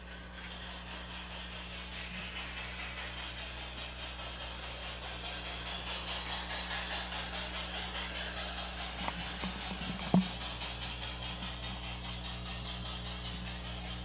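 LGB garden-scale model trains run steadily on an automatic route-switching layout, giving a faint, continuous low rumble and hum with a couple of soft clicks near the middle.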